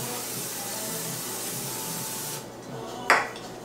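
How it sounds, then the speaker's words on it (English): A steady hissing spray of Pam cooking spray runs for a couple of seconds, then stops, followed by a short sharp clink nearby. "I just sprayed it with some Pam."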